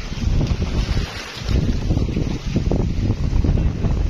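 Strong, gusty wind buffets the microphone with low rumbling roars that surge and ease, alongside a faint watery wash.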